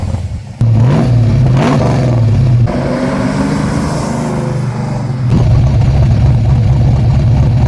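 A stroked and cammed Ford XA GT Falcon V8 revs loudly nearby, its deep lumpy idle swelling into several throttle blips and settling back to a heavy rumble.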